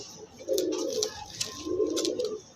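Pigeons on a pigeon farm give two clear, low throaty coos in succession, close to the microphone, with faint chirps and rustling in the background and no talking.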